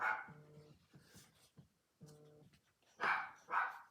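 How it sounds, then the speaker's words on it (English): Several dogs bark in short bursts, some yelps and higher yaps mixed in, fairly close with brief pauses between outbursts. "Sorry for the dogs barking."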